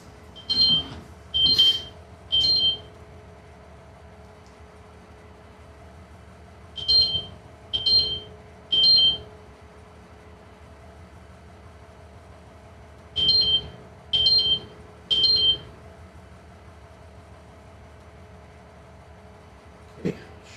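Three sets of three short, bright electronic beeps in Farming Simulator 25, evenly spaced over a steady low machinery hum, with a single faint beep at the very end.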